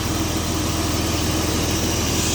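A Porsche 986 engine idling warm at operating temperature, a steady close rumble with an even low pulse and broad mechanical hiss, unbroken for the whole stretch with no voices.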